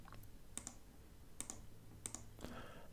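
A computer mouse clicks at a desk, about four sharp, faint clicks spaced roughly evenly, some in quick double pairs, over a quiet room hum.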